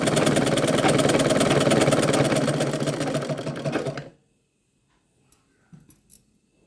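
Sewing machine stitching the lining of a blouse runs in a fast, even mechanical whir for about four seconds, then stops, leaving near silence with a few faint clicks of handling.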